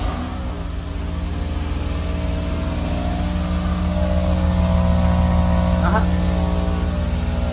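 A Toyota Corolla GLi engine idles after a cold start, a steady close mechanical hum with a constant low drone throughout and a brief faint chirp partway through.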